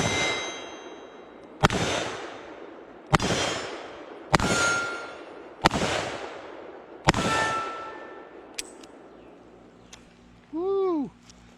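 A S&W 329PD .44 Magnum revolver fired at an outdoor range, five loud, sharp shots spaced evenly about a second and a half apart, each with a ringing tail, followed by light metallic clinks.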